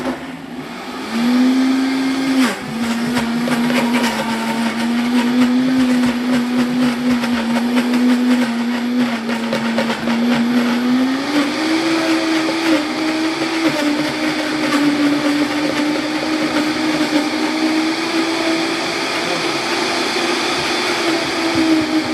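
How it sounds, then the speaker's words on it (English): A powerful blender whirs loudly and continuously while blending frozen vegan nice cream with no added liquid, its motor pitch dipping and rising slightly as the mixture shifts, with no talking. "if you have a really strong blender, you actually don't need to add any liquid"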